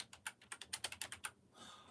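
Rapid keystrokes on a computer keyboard, about a dozen crisp clicks in an uneven rhythm, close and clear with no voices, then trailing off into a faint hiss.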